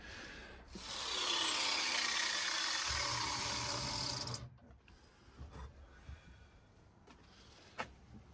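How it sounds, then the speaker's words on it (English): An angle grinder grinds down a welded screw on an early-1960s Raleigh RM4 moped, giving a loud, close, harsh whine for about four seconds. It then stops, leaving quiet workshop clatter and a few small knocks. "So I'm going to take a grinder and I'm going to grind it down."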